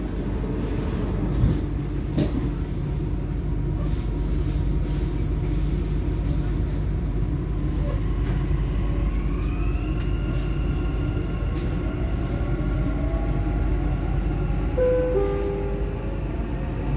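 A Dubai Metro train runs between stations toward Airport Terminal 1, with a steady low rumble and rolling wheel noise throughout and faint rising electric motor whines partway through.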